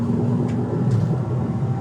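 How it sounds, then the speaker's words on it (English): Porsche Cayman R engine cruising in a higher gear, a steady low drone with induction roar holding constant and close throughout, no voices over it. "just listen to that beautiful induction sound"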